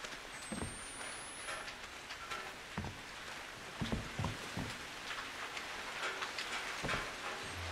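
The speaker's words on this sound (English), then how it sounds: "It started raining the blood." Soft rain pattering steadily in an Outlast 2 game scene, with occasional low thumps and rumbles beneath the hiss.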